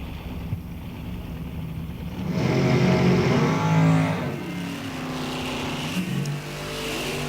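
At an NHRA National Open drag race, cars including a '27 Roadster launch from the line. Engines idle, then swell into a loud, roaring surge that peaks for a couple of seconds and fades away.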